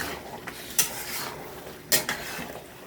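A spoon stirs a pot of callos stew with beef trotters, giving two sharp metallic scrapes against the pot over a soft continuous background, with no talking.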